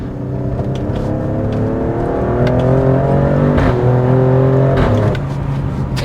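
A sports car drives along with its engine note rising and falling through gear changes, the exhaust burbling and popping between pulls, loud and close with no voices.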